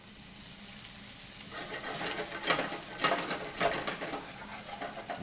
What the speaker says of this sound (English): Some olive oil. First, the garlic. Just let that sweat out a bit.